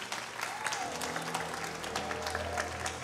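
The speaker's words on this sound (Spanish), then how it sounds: "Un aplauso muy grande para los alacranes del norte." An audience at a staged show applauds, sustained clapping mixed with crowd noise and a faint tonal sound beneath, with some voices mingled in the background.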